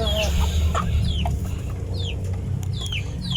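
Several free-range mixed heritage chickens cluck and squawk in short bursts over a steady low background hum, fairly close.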